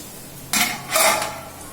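A metal lid is set over a pan of cooking appalam poriyal, giving two short clattering clanks in quick succession against a quiet kitchen background.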